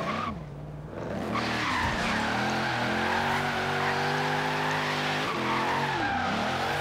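A completely stock Camaro drifting in the video game Forza Horizon 3, its engine droning steadily while the tires squeal and skid almost continuously, with the pitch bending as the car slides, close and loud with no talking.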